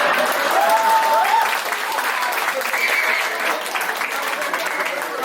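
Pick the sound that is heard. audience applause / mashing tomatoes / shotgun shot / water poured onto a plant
audience applause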